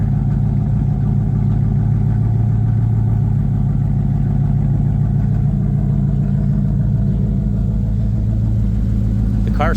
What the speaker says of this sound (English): The car started right up.